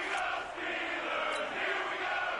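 A football stadium crowd in a Steelers vs Dolphins game roars in a broad, steady wash of cheering at moderate distance, with no clear voices on top.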